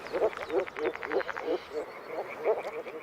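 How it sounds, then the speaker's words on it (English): A chorus of moor frogs calling at a spawning ground along the Danube in repeated soft, bubbling croaks, many overlapping voices with a pulsing rhythm at moderate distance. "This is the signal for moor frogs to gather in their thousands at their spawning grounds."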